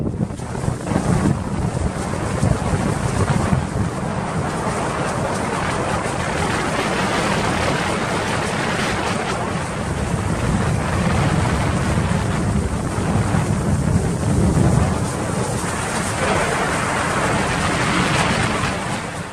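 High wind buffets the microphone on Salina Lake during a bass fishing tournament, a loud continuous roar and rumble with water and boat noise, no voices.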